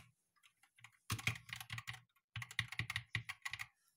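Keys on a GK61 mechanical keyboard clack loudly and close up, a few scattered presses giving way to two fast bursts of rapid typing separated by a short pause.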